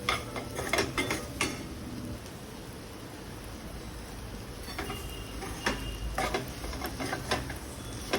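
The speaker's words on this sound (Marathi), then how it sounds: "आता आपण तेलावर परतून घेतलेली भेंडी टाकायची आणि छान एकत्र करून घ्यायची" Fried okra and potatoes with spices are stirred in an oiled pan, and a steady close sizzle carries bursts of spoon-scraping clatter near the start and again later, with no voices.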